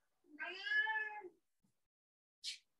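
A domestic cat gives a single clear, drawn-out meow lasting about a second, close and fairly quiet in an otherwise silent room, followed by a faint short click.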